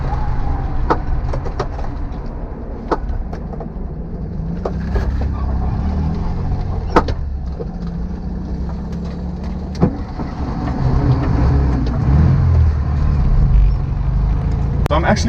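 A 1976 Volkswagen Beetle 1600sp running on the road, its steady engine drone and road rumble filling the cabin, with someone talking over it and a few sharp knocks along the way.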